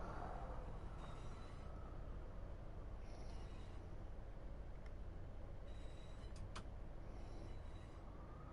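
A locomotive runs along a test track in the Train Sim World 5 game, giving a steady, continuous low rumble with faint metallic squeals and clicks over it and no talking.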